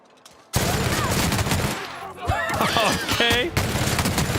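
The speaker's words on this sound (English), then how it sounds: "Light machine gun. It uses light bullets." Sustained automatic gunfire from a light machine gun in The Outer Worlds, loud and dense in long rapid bursts, with a brief pause midway and some muffled voice or game sounds mixed in.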